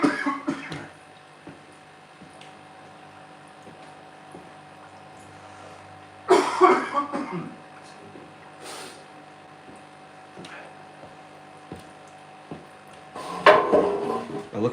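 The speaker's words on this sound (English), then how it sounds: "I've got quite a bad cough" A man on a home livestream coughs in several brief, close bursts separated by long quiet stretches, with faint room clatter in between.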